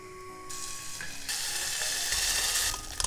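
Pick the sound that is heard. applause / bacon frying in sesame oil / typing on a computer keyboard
bacon frying in sesame oil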